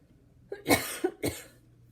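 A few short, sharp coughs in quick succession, close to the microphone, in an otherwise quiet room.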